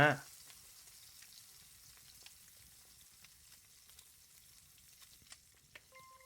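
Meat hits a pot in a cooking video game making red-braised pork, with a brief burst at the start. A faint, steady sizzle then continues quietly with scattered small pops.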